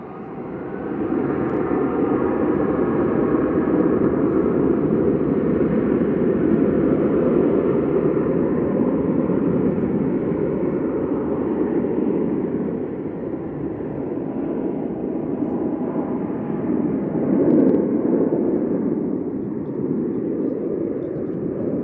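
A Ryanair-style Boeing 737-800 jet bound for Milan takes off from Manchester Airport, a loud, steady engine roar that holds broad and constant throughout, swelling slightly near the end.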